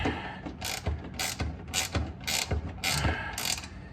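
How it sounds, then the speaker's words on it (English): A wrench ratchets in quick repeated bursts of clicking while nuts are tightened on a tub during a shift cable install, about six close, sharp ratcheting runs with short pauses between. "we got our magic helper up inside with the wrench on the back, and I started tightening down the nuts."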